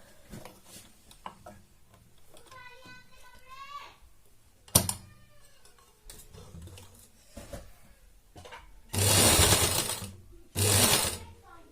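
Sewing machine stitching a newborn baby cap, heard as two loud bursts of fast mechanical running near the end after quieter handling and a voice talking earlier.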